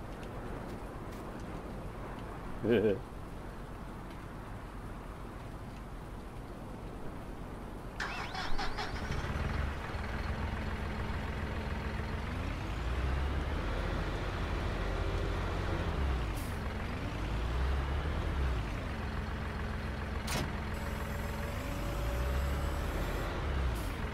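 A tractor engine runs steadily throughout, a low rumbling drone with shifting pitch as the load changes, plus brief clanks and hisses, in a snowy Montana farm setting.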